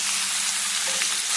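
Cumin seeds, green chilli and a bay leaf fry in hot oil for a pointed gourd and potato curry, giving a steady, loud, close-up sizzle with no voices.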